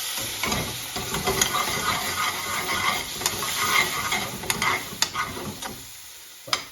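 Spices sizzle and fry in a hot pan while a utensil stirs and scrapes through them for a quick curry-house style chicken tikka bhuna, a close, steady crackling hiss broken by sharp stirring clicks.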